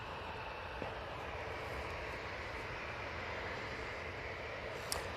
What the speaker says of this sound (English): there's the EasyJet that Benedict just mentioned, just rolling out